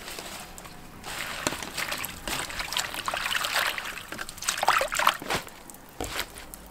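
Fish mint roots (zhe'ergen) being washed by hand in water, with steady trickling and sloshing close by, no talk.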